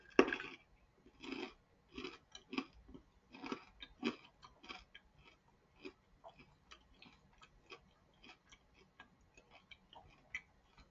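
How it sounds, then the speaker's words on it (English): Close, crisp crunching of a kinako mochi sesame crunch stick being chewed, loud brittle bites at first, then a long run of steady, softer crunches fading as the mouthful breaks down. "So it starts really crunchy and you do have to crunch through it"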